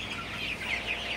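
Many chickens on a poultry farm during hot, humid weather cluck and murmur together in a continuous, dense chorus, fairly loud and steady throughout, with no voices.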